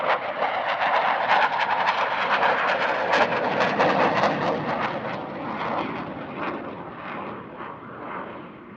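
A jet aircraft making a negative-G display pass past the crowd at the Air Legend airshow at Paris-Villaroche, a loud continuous engine roar that swells, holds, then slowly fades as it moves away.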